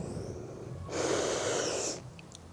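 A single audible breath, drawn in and pushed out through the nose or mouth, during a Pilates ring exercise, close and fairly soft over quiet room noise with no talking.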